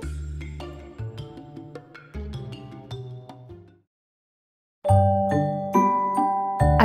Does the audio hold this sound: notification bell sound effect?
yes